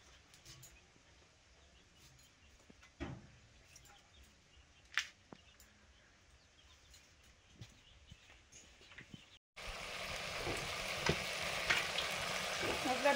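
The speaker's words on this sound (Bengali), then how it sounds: "মশলাটা কষানো হয়ে গেছে।" Spice masala sautéed in a pan, heard first as a faint, quiet sizzle with sporadic scrapes and clicks, then switching to a much louder, steady frying hiss close by for the last few seconds.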